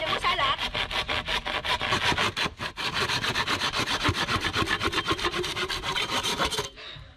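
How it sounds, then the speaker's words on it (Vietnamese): A hand saw cuts back and forth through a coconut tree trunk in a steady rhythm of rasping strokes, close and loud, with a brief pause midway before the sawing stops near the end. "Cưa vô ngay nha mày, đừng có sai lệch."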